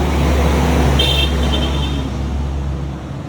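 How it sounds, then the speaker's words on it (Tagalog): Cars on a road in La Trinidad, Benguet pass with a steady loud engine and tyre rumble, close by, with a short horn toot midway and no talk. "Yan, mga kotse."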